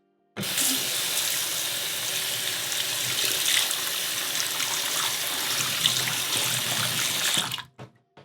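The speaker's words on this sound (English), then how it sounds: "So while it's still wet, we want to give this a really good rinse." A safety razor is rinsed under a running tap. The water gushes loudly and steadily for about seven seconds, then cuts off and leaves a few drips, with no talk.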